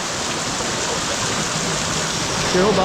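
Water runs off rock in several streams inside a long Bali cave, a close, steady rushing hiss that fills the space, with a brief spoken voice near the end.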